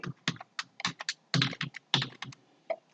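Someone types a password on a computer keyboard, about a dozen crisp, close keystrokes in uneven bursts with short pauses, heard alone.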